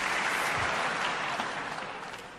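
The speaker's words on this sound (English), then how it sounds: "You guys are just applauding for everything" Steady applause from a live audience, dense and fairly loud throughout and slowly fading near the end, with no talking over it.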